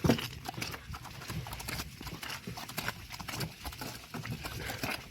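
Hooves of a harnessed draft mare clip-clop in a steady walking rhythm, close by, over a rough outdoor background.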